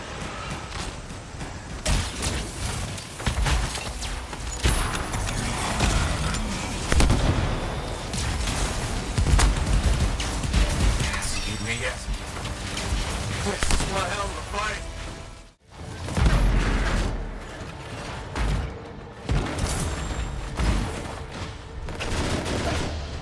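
Combat in the video game Anthem erupts with dense, continuous gunfire bursts and booming explosions, loud throughout with a brief drop near the end before the barrage resumes.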